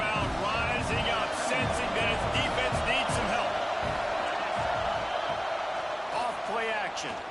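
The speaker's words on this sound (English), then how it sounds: "This crowd rising up, sensing that its defense needs some help" Stadium crowd roaring steadily at a college football game between Rutgers and Tennessee, a loud sustained swell with scattered shouts and whoops, with a commentator talking over it throughout.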